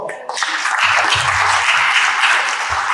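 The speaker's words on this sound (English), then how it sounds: "Clap for God." An audience at a health talk in Accra, Ghana breaks into loud applause: a short pause, then a sudden burst of dense, sustained clapping from a crowd that stays strong to the end, with faint low voices beneath.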